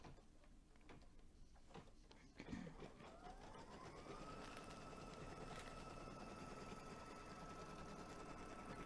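A sewing machine stitches down a letter on a pennant banner, starting after a few faint clicks and handling noises and then running as a steady, quiet mechanical whir.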